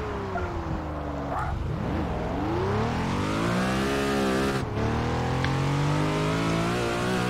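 A Ruf RGT engine in Test Drive Unlimited 2 revs steadily during a drift. The pitch rises and falls as the car slides and regains grip, held loud and constant with no pauses.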